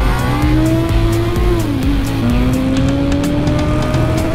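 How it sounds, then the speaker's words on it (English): A Suzuki GSX-S1000 motorcycle of 150 bhp roars loudly and close, its engine note sweeping while sharp crackling exhaust pops break out in the second half. "Oh! Backfire!"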